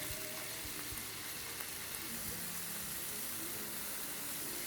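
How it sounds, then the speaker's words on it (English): Vegetables for egg fried rice stir fry in a hot pan, making a constant, faint crackling sizzle with no voices. "after stir frying it for a few minutes, we are going to season our veggie"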